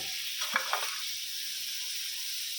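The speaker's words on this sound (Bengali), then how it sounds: "গাজরের ছোলাটা দিচ্ছি, একটু হালকা ভাজা দিচ্ছি।" Chickpeas and grated carrot lightly frying in a pan, giving a continuous even sizzling hiss with a few faint stirring scrapes.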